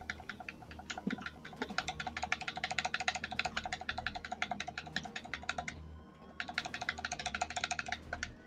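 A computer keyboard clacking hard and fast as keys are pressed while shift is held, a steady dense run of crisp clicks that pauses briefly and then resumes.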